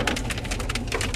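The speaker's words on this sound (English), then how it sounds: "All that sound is a rainstorm that started now that we started recording." A sudden rainstorm pours down outside, a dense, steady hiss of rain with a low rumbling undertone, loud and continuous with no talking.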